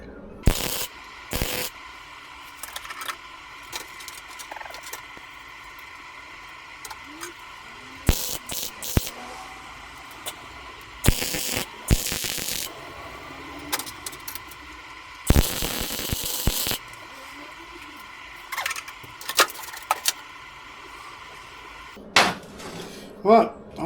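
MIG welding a modified Front Runner gas bottle mount onto a Land Rover Defender 110 camper: short bursts of crackling, hissing arc noise from tack welds, separated by pauses and clinking metal handling nearby.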